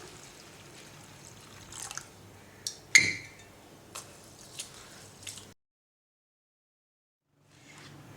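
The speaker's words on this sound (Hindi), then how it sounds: "2 कप चावल हैं जिसको धोकर मैं भिगोने लगी हूँ।" Two cups of rice being washed and soaked in water in a home kitchen: scattered wet drips, squishes and light splashes, quiet and close, falling silent near the end.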